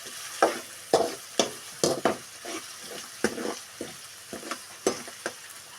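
Onions sizzle and fry in a pan for rava kichadi while a utensil stirs and scrapes them in repeated sharp strokes, close and clear with no talking.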